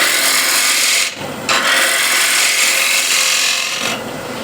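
A bowl gouge cuts along the edge of a large wooden platter in a loud, continuous rasping shear, broken by two brief pauses, close and alone with no voices.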